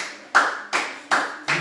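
Four sharp, separate hand claps sound close by, spaced roughly evenly with short gaps between them, each with a crisp attack and a quick decay.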